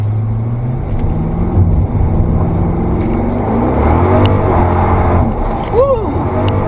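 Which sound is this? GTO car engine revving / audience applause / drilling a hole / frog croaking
GTO car engine revving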